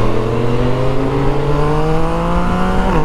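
Motorcycle engine in sport mode revving steadily with a rising droning pitch, loud and close, as if heard while riding, with no talking.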